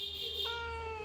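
A cat gives a single drawn-out meow in reply to a person's imitation, a clear, close tonal cry with a rising harmonic bend midway, heard alone against a low steady background hum.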